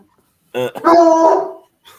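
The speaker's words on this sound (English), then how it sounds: "probably hearing my dogs fighting in the background" Dogs barking and yelping in a short burst, a few sharp barks followed by a sustained whining, growling vocal scuffle, fairly loud and close, with no talk over it.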